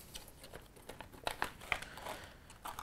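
Cardboard packaging for an Audio Technica ATR-3350 lavalier microphone is torn and opened. Quiet, close crinkling and crackling comes in a series of short bursts with sharper snaps in the middle.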